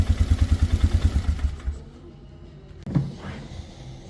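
A small engine, apparently a motorcycle-type motor, runs with a steady rapid chugging pulse, then cuts out and stays quiet for about a second before a sharp burst as it fires again briefly.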